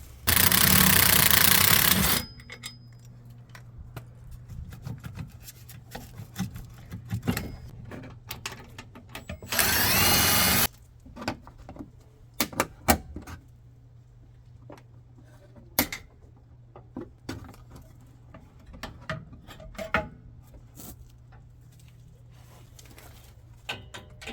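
Work on a Jeep Gladiator's Mojave shock with its 14mm shank bolt: two loud bursts of a power impact tool, then scattered metallic clinks, taps and handling of tools over a low hum, close by.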